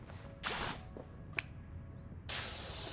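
A pressure washer in Powerwash Simulator 2 sprays in loud bursts of hissing water, one short blast, a sharp brief burst, then a sustained spray starting near the end, close and with no talk.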